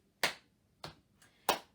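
Body percussion in a music workshop: three separate sharp slaps or claps on knees and hands, spaced unevenly in a short rhythm, close and clear with quiet gaps between, no voices.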